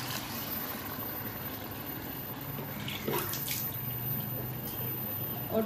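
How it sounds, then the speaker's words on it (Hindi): Two glasses of water are added to a pot of aloo gosht, a soft steady rush of pouring water with a brief splash, near and fairly quiet, no talking. "2 गिलास पानी ऐड करेंगे।"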